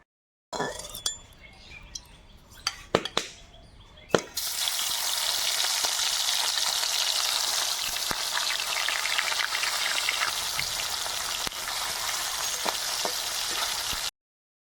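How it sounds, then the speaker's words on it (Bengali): Mustard oil in a wok, first a few clinks and knocks of utensils, then a loud, steady sizzle that runs continuously to the end. "কড়াইয়ে আবারও সরষের তেল দিয়ে দেবো।"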